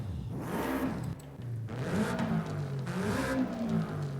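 Subaru BRZ 2-liter flat-4 engine in Forza Horizon 5, revving up and easing off in repeated surges, a close, loud, buzzy whir with no talking.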